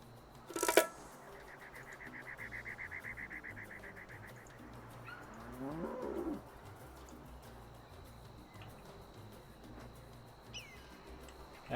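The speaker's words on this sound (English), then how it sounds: "I hear the birds" Birdsong plays in the Tropico 6 video game: a rapid chirping trill, then a falling call and a soft coo, all faint over a low ambient background.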